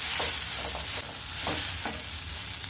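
A spoon stirs ground coconut mix through cooked chana dal sundal in a pan, soft scraping strokes over a steady low sizzle, close and fairly quiet.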